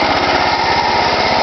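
A vehicle engine strains to pull a trailer forward out of snow after digging it out with a plow, giving a loud, steady, buzzing drone with a fast rhythmic pulse throughout.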